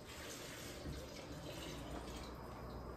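Filtered water pours into a blender jar in a steady, close rushing stream of even loudness, with no talk over it.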